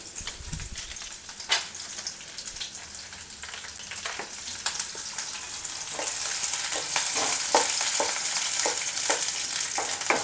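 Onions frying in a pan for a village-style tambuli, a steady sizzle that grows louder and brighter partway through, punctuated by repeated scraping strokes of a spoon stirring, with no voices.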